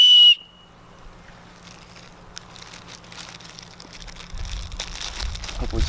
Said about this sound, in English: you have a tiny little whistle.